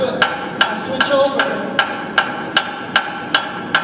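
Hand hammer striking hot metal on an anvil during blacksmith forging, a series of about ten sharp, loud ringing blows at a steady rhythm, with faint background noise between strikes.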